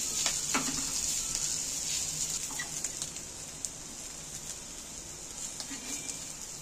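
Potatoes fry in a pan with crushed dried chillies, a continuous soft sizzle with faint stirring scrapes and scattered light pops, heard fairly close.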